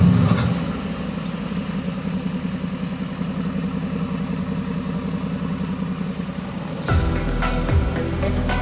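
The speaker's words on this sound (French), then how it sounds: "vous allez entendre le bruit au démarrage" A Mercedes-AMG GT C convertible fires up with a loud burst, then settles into a steady, deep idle rumble up close before the engine note shifts and grows slightly louder near the end.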